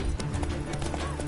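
A horse's hooves clip-clop at a steady trot in the video game The Witcher 3, close and continuous over a dense game soundscape.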